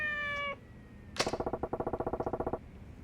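Cat meowing in the video game Yakuza 4, a single short meow followed by a quick rapid run of pulsing chirps and a sharp impact, all up close and fairly quiet.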